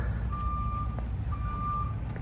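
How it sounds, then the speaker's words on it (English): Trucks reverse in a Holiday Inn parking lot near a truck stop, their backup alarms sounding two long, steady beeps, each under a second, over a constant low engine rumble and hot, noisy outdoor air. "We got trucks over here parking in the Holiday Inn parking lot."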